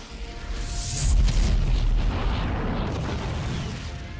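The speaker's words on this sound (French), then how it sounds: "où d'autres meurent en de violentes explosions" A deep, continuous rumbling roar evokes exploding dying stars in space, swelling to a broad thunderous peak and then sustaining a dense, loud boom with no talking.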